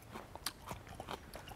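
Crisp bites into chilled oriental melon (chamoe) water kimchi, with short crunchy snaps and chewing at close range, repeated several times without talking.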